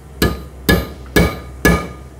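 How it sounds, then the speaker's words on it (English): A steel hammer tapping a punch on a rear brake rotor of a Chevy or GMC Silverado dually, four sharp metallic strikes at an even pace with ringing decay, close and alone. "So I got my steel hammer here and my punch,"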